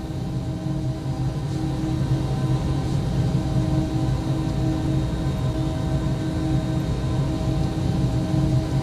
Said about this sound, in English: That's the flaps sound you hear.